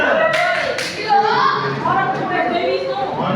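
Children in a classroom clap two quick beats early on, then chant and chatter loudly together in a rhythmic clapping game, voices filling the rest.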